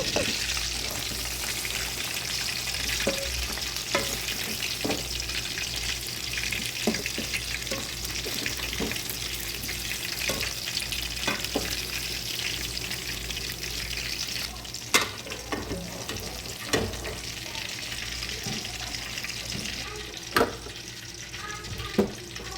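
A large crab fries in hot oil in a small pan, giving a steady, close, crackling sizzle with occasional clinks and scrapes throughout.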